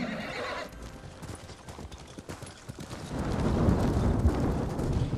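A horse in the Ghost of Tsushima video game gives a short neigh, followed by hooves clip-clopping into a steady trot that grows louder, all at moderate volume with no talking.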